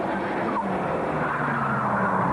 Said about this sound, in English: The final V6 race saw a typical cavalry charge down to the first corner, and then a typical racing incident into the devil's elbow.